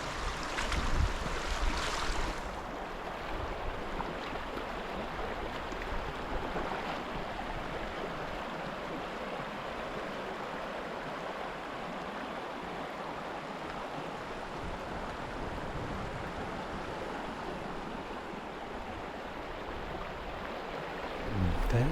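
River water flowing around a mudlarker wading in the river, a steady broadband rushing wash that stays constant throughout, with a brief louder burst of noise at the start.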